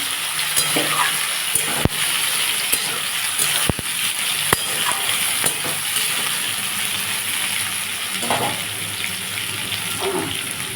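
Nate greens with onion frying in a pan for a fish-head chorchori, a steady broadband sizzle with scattered clicks and clinks of a utensil throughout, no voices.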